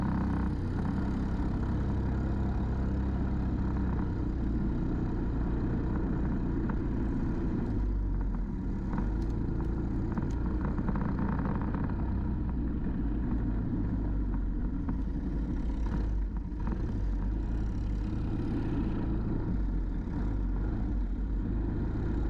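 A Briggs racing kart engine idles with a steady, buzzy mid-pitched drone at a race track, continuous and fairly even, with light background noise and no speech.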